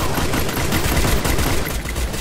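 Dense automatic gunfire in a video game shooter, a rapid, loud, continuous burst of shots lasting about two seconds with no pauses.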